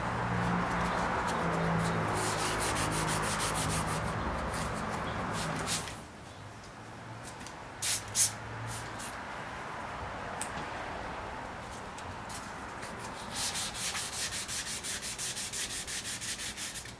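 Hand sanding of boat gelcoat with 400 grit paper gives a steady close rasping rub for several seconds, then quieter strokes and a few knocks before the scrubbing picks up again.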